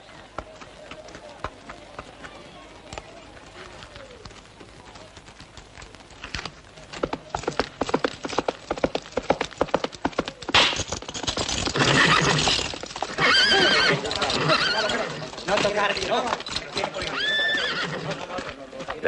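Horses galloping and neighing in a 1971 Spanish period film, with rapid hoofbeats building to loud, close whinnies and crashing commotion over music, with voices speaking in between.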